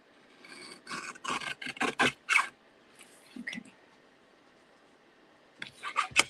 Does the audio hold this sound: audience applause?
no